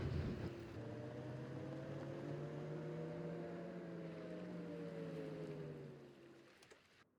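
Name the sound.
ferry carrying the player across water in video game Farming Simulator 25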